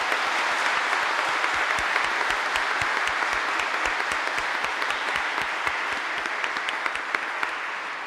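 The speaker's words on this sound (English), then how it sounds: "Give them a round of applause." A congregation applauds at a Catholic confirmation Mass in a church, producing a steady, even wash of clapping from many hands that carries through the whole stretch with a few sharper individual claps standing out.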